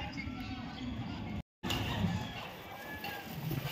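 Chickens cluck and squabble while being fed breeder feed at a coop, a dense, busy flock chatter with a brief cut, under someone speaking over it.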